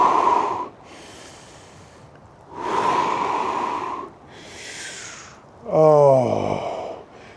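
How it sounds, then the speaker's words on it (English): Heavy, audible breaths during a morning strength workout, with long forceful exhales and inhales alternating in a slow rhythm, close to the microphone, the last breath ending in a voiced, groaning sigh. "Nice big exhale. Breathe in and out."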